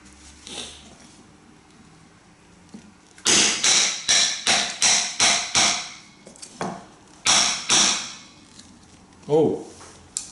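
Sharp repeated knocks of a Scandi-convex knife being struck through wood to split it, about a dozen close, loud hits in a quick rhythm with short gaps, then a few scattered taps and a brief voice.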